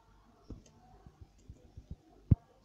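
Wheat being planted in the farming video game Hay Day, heard as a string of soft, quiet clicks and taps at irregular intervals, ending with one sharper, louder tap.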